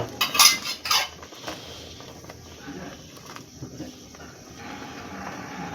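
A pot of semai payesh flavored with cardamom is handled on the stove, with a few sharp metallic clinks and scrapes of cookware at the start, then quieter shuffling kitchen noise and background hiss.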